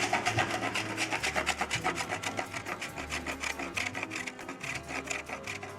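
Chocolate bars being shaved by hand into shavings, a quick rhythmic scraping of even repeated strokes, close and steady with no talking.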